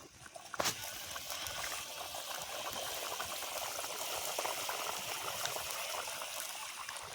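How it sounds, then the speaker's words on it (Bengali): Silver carp fish curry gravy simmers at a boil in a pot, with soft continuous bubbling and gurgling heard up close. "ঝোলটা ফুটে এসছে"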